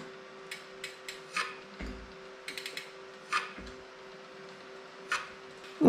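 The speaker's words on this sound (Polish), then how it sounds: "słychać, że gdzieś leciutko ociera, prawdopodobnie znów tutaj na naklejce" Bicycle wheel spinning on a truing stand while being trued, a faint steady hum with repeated light ticks and soft rubbing bursts against a sticker, close and quiet with no talk.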